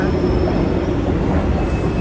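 A metro train runs with a steady, loud rumble of wheels on rails, heard from on board and filling the whole stretch without pause.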